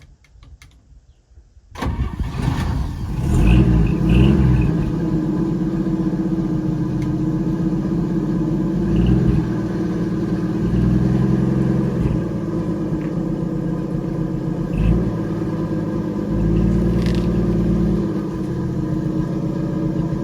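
A 1956 Chevy 210 that sat for 25 years cranks and fires up after a quiet moment, then idles and runs with a loud, steady mid-pitched rumble and slight rises in revs as the car moves.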